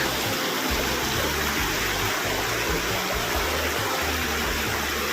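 Narrow river stream in Bansud, Oriental Mindoro, Philippines, flowing steadily with a constant close rushing and babbling of water, loud and unbroken throughout with no voices.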